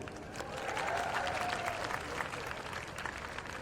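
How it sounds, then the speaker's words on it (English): An audience at a university new student convocation claps and cheers steadily, a continuous wash of applause swelling slightly then holding, heard from within the hall. "about another cheer for Merced Stratton"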